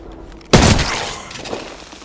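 Gunfire in a video game: a single loud sharp blast with a crackling, shattering tail that fades over about a second and a half, no talking.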